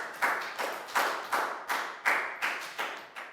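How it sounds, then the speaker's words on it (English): Rhythmic group clapping fills a Year 4 classroom, eight or so steady beats in a tight unison pattern, close and moderately loud, with no voices. "A big round of applause for everybody doing a great job."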